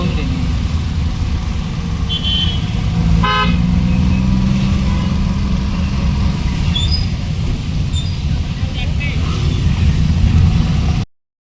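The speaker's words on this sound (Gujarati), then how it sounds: "વરસાદ ખુલતાની હાથે જ ટ્રાફિક જામ થઈ ગયું" Road traffic after rain in Chikhli, Gujarat: a steady, loud rumble of idling and crawling cars and trucks, with a few short horn toots breaking through around the third second and again later, close by.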